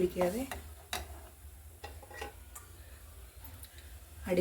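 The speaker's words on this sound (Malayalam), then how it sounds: "ഇടയ്ക്കിടയ്ക്ക് നമുക്ക് ഇളക്കി കൊടുക്കാം" Scraping, clicking stirs in a pot of melting jaggery repeat irregularly with a faint sizzle, close by, with a voice briefly at the start and end.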